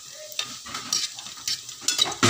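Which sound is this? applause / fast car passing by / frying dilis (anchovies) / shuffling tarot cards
frying dilis (anchovies)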